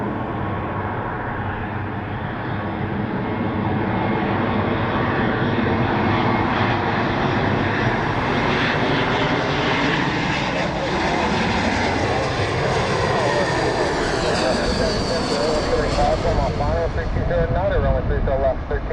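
A jetBlue Airbus A320 lands at San Jose Airport, its loud jet roar sweeping past with a shifting pitch, while faint radio voices are heard in the background.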